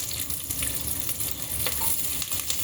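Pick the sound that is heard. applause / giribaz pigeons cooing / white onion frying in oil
white onion frying in oil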